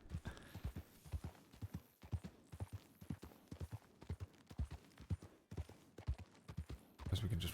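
A ridden horse's hooves clip-clop in a steady rhythm in a Western video game, fairly faint, with brief breaks and a rougher burst at the end.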